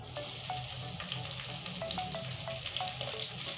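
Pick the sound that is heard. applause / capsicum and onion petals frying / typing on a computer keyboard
capsicum and onion petals frying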